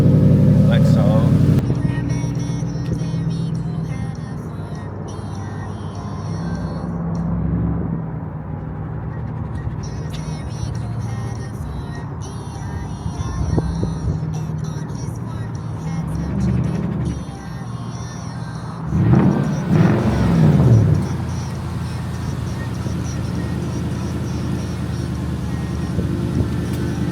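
A 2004 Lexus GS with an aftermarket exhaust idles and revs nearby with a deep, throaty exhaust rumble, swelling in a couple of revs, while a person talks over it.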